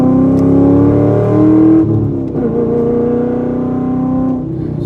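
A Corvette engine revs hard through a third-gear pull, a steady rising drone with a brief dip mid-way, loud and close.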